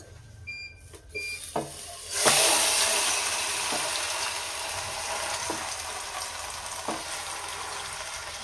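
Tandoori-marinated chicken pieces set into a pan of hot sunflower refined oil, bursting into a loud, steady sizzle after a few soft clinks, with crackles and pops continuing close by and no talking.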